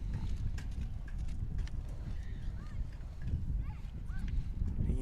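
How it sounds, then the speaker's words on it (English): Hooves of a white horse running a pole-bending pattern in a small high school rodeo arena, a rapid drumming clip-clop under steady arena noise and background voices. "Good looking white horse there."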